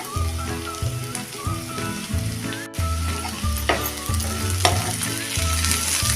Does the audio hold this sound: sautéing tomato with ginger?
yes